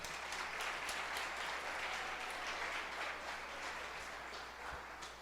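A church congregation applauds during a Portuguese-language sermon, giving a steady, moderately loud round of clapping that fills the room with no voices on top.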